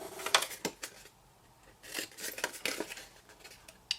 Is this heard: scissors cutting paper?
yes